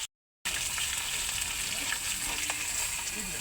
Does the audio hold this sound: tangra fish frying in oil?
yes